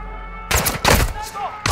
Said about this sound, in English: The gunfire alerted them.